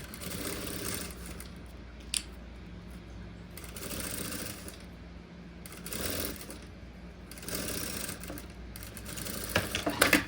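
A sewing machine runs a stitching line that attaches bias binding along the edge of crystal-clear plastic, with steady mechanical whirring in several bursts and short pauses between runs, close and moderately loud, no talking.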